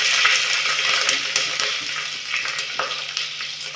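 Green chillies and whole spices sizzle steadily in a hot pan of oil for veg pulav, a close, continuous frying hiss broken by a few light stirring clicks.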